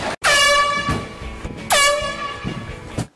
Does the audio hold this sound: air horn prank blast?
yes